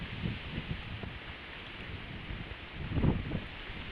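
Heavy rain falls steadily with strong gusting wind, a broad continuous wash of noise that swells briefly toward the end, with no voices.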